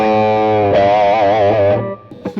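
Electric guitar driven through two stacked overdrive pedals, one a Tube Screamer, played on the bridge pickup: a single sustained distorted chord rings with wavering vibrato, then cuts off into a brief pick scrape.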